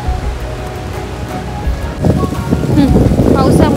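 Rough sea waves break on the coast at Harihareshwar during the rainy season, a loud, close wash of surf and wind buffeting that swells halfway through, with a voice speaking over it briefly.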